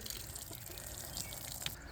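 Rainwater saved from an earlier storm trickles onto newly planted herb seedlings in garden bags, a continuous soft splashing pour with small drips standing out, close by and unaccompanied by speech.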